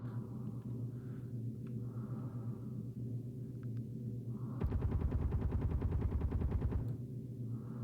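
Rapid automatic gunfire from weapons in the video game Space Engineers, a sustained burst of about two seconds of fast repeating shots over a steady low mechanical hum, no voices.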